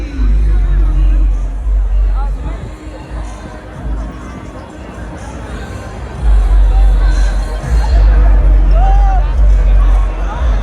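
Dense crowd hubbub on the streets of the Notting Hill Carnival in London, a loud continuous babble of many voices with low rumbling underneath, close by and with no pauses.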